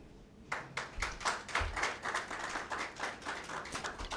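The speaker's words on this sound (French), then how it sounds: "Je note que vous avez cette fois-ci applaudi sans même qu'on ne vous le demande." Audience applause at a government event begins after a brief quiet moment, a fairly sparse crowd clapping with distinct individual claps in an irregular rhythm, moderately close and steady to the end.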